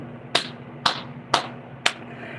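A hand clap repeated four times at an even pace, about half a second apart. The claps are sharp, close and fairly loud, with no talking.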